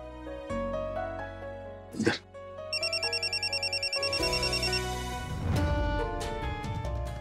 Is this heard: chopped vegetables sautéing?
no